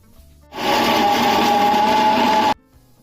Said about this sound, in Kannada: ಆರಿರೋದನ್ನು ಮಿಕ್ಸಿಗೆ ಹಾಕ್ಕೊಂಡಿದ್ದೀನಿ.